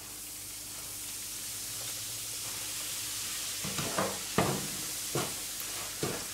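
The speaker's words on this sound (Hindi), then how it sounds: "मीडियम आंच पे हमें सूजी को भूनना है" Semolina roasting in hot ghee over medium heat, stirred steadily: a soft continuous sizzle with several louder scraping, stirring swishes toward the end, close and alone.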